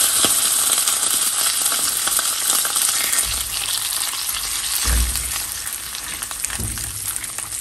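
Chiles fry and sizzle steadily in a pan for a Mexican dish, a continuous close crackle with a few soft stirring thumps and scrapes partway through, no voices.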